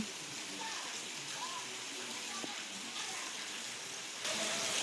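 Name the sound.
rain falling in a village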